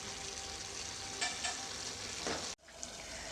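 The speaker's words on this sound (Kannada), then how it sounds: "ಇವಾಗ ಇದನ್ನು ಒಂದು ಐದು ನಿಮಿಷ ಕುದಿಸ್ಕೊಳ್ತೀನಿ" Pineapple gravy for a Karnataka-style pineapple gojju, seasoned with a pinch of asafoetida, simmers and sizzles steadily in a pan, a continuous close bubbling hiss with a brief stir-like scrape near the end and no voices.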